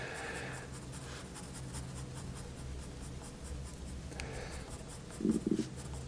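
Pencil hatching strokes on paper while drawing a mushroom, a soft continuous scratchy rustle that runs steadily through the clip with a brief louder scrape near the end.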